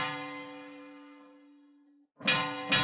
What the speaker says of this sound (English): A bell was struck.